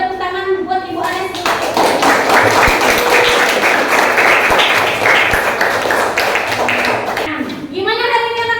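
Children clap together for a teacher at a school event on sustainable living, a loud, dense burst of applause lasting several seconds, with a voice speaking just before and after.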